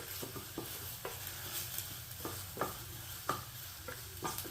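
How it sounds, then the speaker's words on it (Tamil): Ginger and garlic frying in a pan for green peas pulao, giving a low steady sizzle broken by regular scraping stirs and light clinks of a spoon, close and quiet. "நல்லா இந்த இஞ்சி பூண்டு பச்சை வாசனை போகிற வரைக்கும் நல்லா வதங்கணும்"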